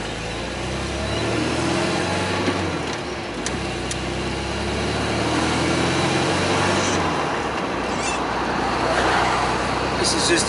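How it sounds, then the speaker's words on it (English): A small car's engine runs steadily as it is driven around local roads with the roof off, a continuous near rumble of engine and road noise with no clear breaks. "we'll start it up, warm it up, and take the roof off, and then we'll take it out for a run"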